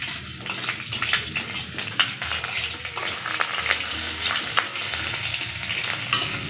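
Five-spice seeds, chopped ginger and green chillies sizzle and crackle in hot oil while being stirred in a pan, with scattered spatula scrapes over a continuous fry.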